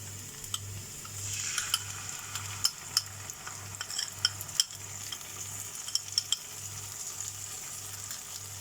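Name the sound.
sauce added to frying chilli chicken, stirring and sizzling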